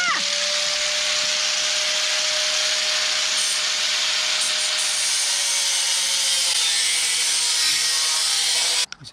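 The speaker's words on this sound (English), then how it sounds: "I'm going to cut it with my angle grinder." An angle grinder cutting through a campervan floor, a loud continuous high-pitched whine and grinding rasp that holds steady for several seconds, close up, then stops abruptly at the end.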